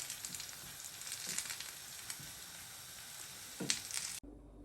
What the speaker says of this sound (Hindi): बस इसी तरह से हमने दोनों साइड से इनको गोल्डन फ्राई कर लेना